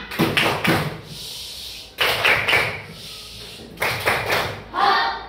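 Children in a classroom doing the tepuk diam clapping chant: three bursts of sharp rhythmic claps with voices, loud and close, separated by brief pauses.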